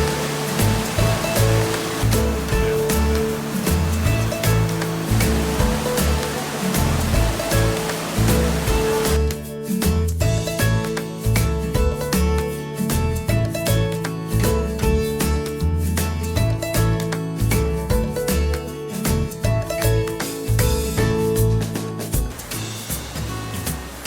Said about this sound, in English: this is all the runoff from the glacier